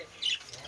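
A pet parrot gives a single harsh squawk midway through, fairly faint and close, with a person speaking nearby.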